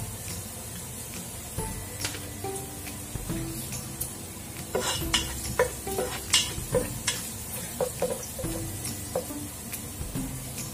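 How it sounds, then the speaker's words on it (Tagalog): Garlic frying in oil until golden brown makes a soft, steady sizzle broken by repeated scraping and clinking as it is stirred in the pan, with no voices. "Hintayin mo na siya maging golden brown ang bawang"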